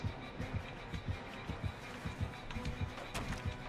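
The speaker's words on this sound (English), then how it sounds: "the heartbeat. I know you're close." A heartbeat warning sound plays in a video game: a quiet, steady, rapid thumping of low pulses over a faint background hum.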